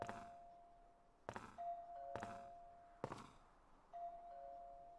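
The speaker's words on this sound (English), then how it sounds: "Sounds like somebody's ringing the doorbell." A doorbell in the video game Ju-On: The Grudge chimes repeatedly, four sharp electronic ding-dong tones at irregular intervals, each ringing briefly before the next, with quiet background.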